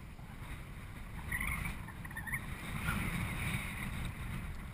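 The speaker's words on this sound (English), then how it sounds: "Very, very windy out here today." Constant blustery wind roars and buffets steadily throughout, a broad rushing noise with no voices.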